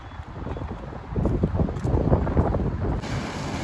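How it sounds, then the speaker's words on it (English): Strong gusts buffet the microphone outdoors in a business district among tall city buildings, a steady low roar that swells louder midway and stays rough and continuous with no talking. "It is a very windy city."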